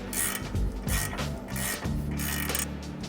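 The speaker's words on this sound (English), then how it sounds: "So we're gonna tighten this nut. It's an 18 millimeter" A ratchet wrench tightens an 18 millimeter nut on Ford F-150 Tremor suspension, quick repeated clicking strokes close up with metallic rasping and brief pauses between pulls.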